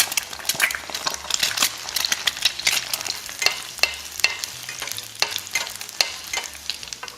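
Eggs frying over easy in a pan for a chilaquiles verdes breakfast, a steady close sizzle and crackle with frequent sharp spatula scrapes and taps, no talking.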